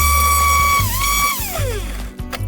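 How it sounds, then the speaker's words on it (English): An orbital sander with 220-grit paper hums on wood with a steady whine that dips and slides in pitch, then winds down near the end. "And then some more light sanding with my orbital sander"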